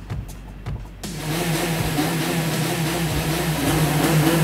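A motorcycle engine starting after a few clicks, then idling and revving rhythmically like music at close range, loud and continuous, in Japan.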